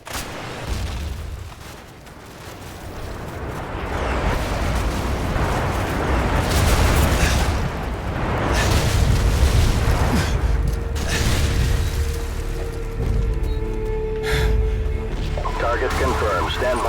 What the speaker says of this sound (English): Target confirmed. Stand by for airstrike.